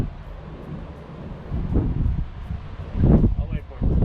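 Gusty wind buffets the microphone in uneven rumbling bursts, strongest toward the end, with no voices.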